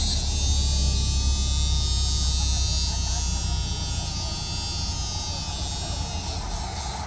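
A car's in-tank fuel pump primes with a steady electric buzz and hum, continuous and fairly loud close to the microphone, with a faint voice beneath it.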